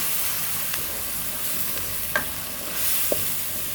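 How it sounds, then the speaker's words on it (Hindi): Spice paste for a potato and egg curry fries in a pan with a constant soft hiss, a few light spoon scrapes and clicks over the top. "इसको भी हम अच्छी तरह से फ्राई कर लेंगे, इसका भी कच्चापन दूर कर लेंगे"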